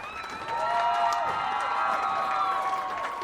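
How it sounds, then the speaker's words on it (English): Crowd applause and cheering at a 2009 boys state finals championship match, rising quickly and holding steady, a broad wash of clapping with a few shouts mixed in. "let's have a nice round of applause for all the participants in today's championship match."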